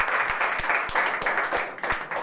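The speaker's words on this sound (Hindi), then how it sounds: "बहुत अच्छा, जोरदार तालियां।" Applause from a group, with rhythmic, fairly loud clapping at a steady beat.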